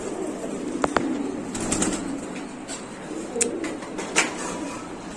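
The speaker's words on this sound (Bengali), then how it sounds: "দর্শক এখানে আছে লাল বাগদাদি হুমা আর হলো হলুদ বাগদাদি হুমা, দুটোটাই জোড়া।" Baghdadi Huma pigeons coo softly close by, with brief bursts of wing flapping and a few sharp clicks, heard in a quiet indoor loft.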